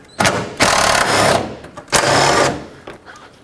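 A power tool spins off 10mm radiator fan shroud bolts on a Chevrolet Express van in loud, sustained bursts of whirring, three long runs separated by short pauses.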